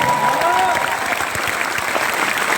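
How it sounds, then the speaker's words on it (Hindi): A large crowd of students at an IIT BHU motivational talk claps loudly for their parents, a dense continuous roar of applause with a faint lingering voice at the start. "एक बार हाथ ऊपर करके अपने माँ बाप के लिए तालियां बजा दीजिए।"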